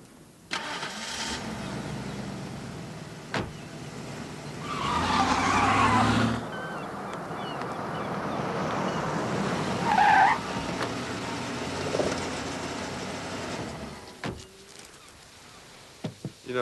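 A car engine turns over and revs as the car pulls away and drives off, with a brief squeal of tires. Bursts of revving rise and fade over a quiet background, ending with a few sharp knocks.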